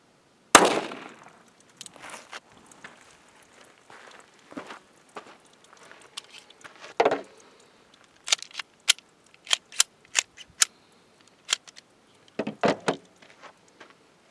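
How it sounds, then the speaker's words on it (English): A Smith & Wesson Bodyguard .380 pistol firing 90 grain Hornady Critical Defense rounds into a 5-pound clay block: one loud sharp report, then a string of separate sharp cracks spaced irregularly, with some faint handling noise between them. "We'll be shooting at this 5-pound block of clay using a .380, more specifically a Smith & Wesson Bodyguard .380."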